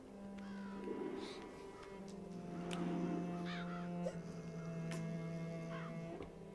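Crows caw repeatedly in the video game Child of Light, harsh calls scattered over a steady low musical drone and ambient game sound, moderately loud throughout.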